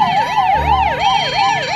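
An ambulance siren sound effect wails loudly and steadily, its pitch sweeping up and down in a quick repeating cycle with no other sound.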